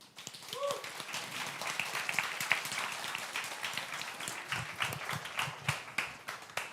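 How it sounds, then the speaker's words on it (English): A faint, scattered round of clapping from a conference audience at a financial crime event, with a few louder individual claps standing out toward the end. "I think we could clap for another few minutes for you"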